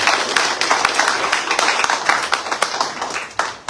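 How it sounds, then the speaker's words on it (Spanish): Church congregation clapping at a worship service, a lively burst of applause with individual claps standing out in a fast, uneven patter close by, holding steady throughout. "Dale un aplauso al Señor porque Él se lo merece"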